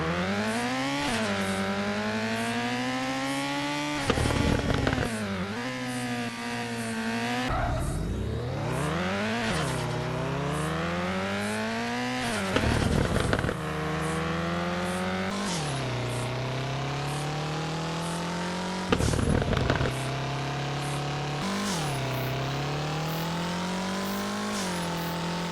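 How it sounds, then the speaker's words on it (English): Engine sounds from the drifting video game FR Legends: a loud synthetic car engine droning and rising in pitch through the gears, with sharp rev drops and bursts of tire squeal at regular intervals, alone without talk. "every car in this game sounds literally the same, whether if it has a rotary engine, or the J engine, or the Lada engine"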